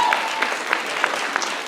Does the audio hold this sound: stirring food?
no